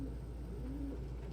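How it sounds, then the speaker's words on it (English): Pet pigeons coo softly indoors, a low continuous cooing murmur throughout with a steady background hum. "Such good pigeons."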